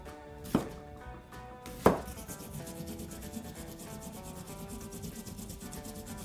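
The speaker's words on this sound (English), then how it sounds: "and then I'll grate the ginger" Ginger grated against a grater, a couple of sharp scraping strokes followed by softer steady rubbing, quiet and close with no talking.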